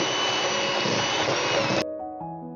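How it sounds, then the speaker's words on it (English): Handheld electric mixer running loud and steady as it shreds cooked skin-on chicken in a bowl, a dense whirring drone that cuts off abruptly near the end, leaving a faint ringing hum. "I'm going to use a handheld mixer"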